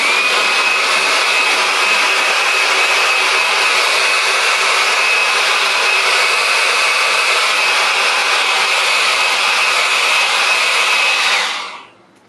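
A hair dryer blows steadily on an alcohol wash over a pastel sky painting, a loud, close, continuous whir lasting about eleven seconds before switching off at the end.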